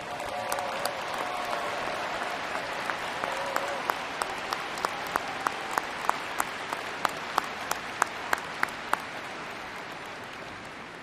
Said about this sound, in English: would you all please stand and let us give you a round of applause